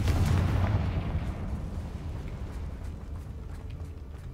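A Confringo fire spell in the video game Hogwarts Legacy bursts with a heavy booming blast that rumbles and fades over a few seconds.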